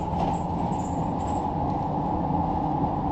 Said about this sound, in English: train that's in action right there